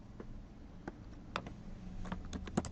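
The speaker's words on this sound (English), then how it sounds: "type the name of the medicine of our choice" Typing on a computer keyboard while entering a medicine name for an e-prescription: soft, irregular keystroke clicks in small clusters, quiet and close, with no voices.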